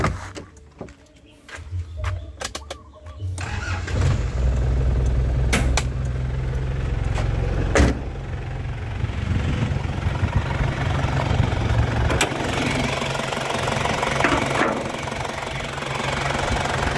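A 2000 Isuzu Panther Hi-Grade's engine cranking briefly, then settling into a steady, loud, rough idle with clattery knocking that continues throughout.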